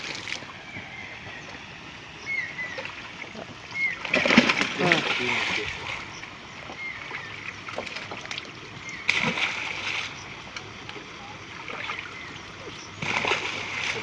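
Big catla fish released by hand into a village pond at Nowa Para, splashing in a few separate bursts, the loudest near the middle, over steady outdoor background with people talking nearby.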